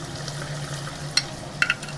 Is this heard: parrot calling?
no